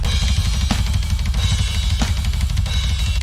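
Death metal drum kit in a 90s-style mix with no low-end enhancement plugin, a dense, loud wall of fast blast-beat kicks and wash of cymbals with occasional snare cracks, continuous throughout.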